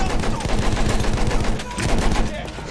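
Rapid, loud gunfire in the World War I shooter Battlefield 1, with dense repeated shots and bursts layered together in a chaotic battle mix.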